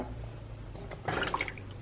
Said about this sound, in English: I'm going to add 3 cups of vegetable broth,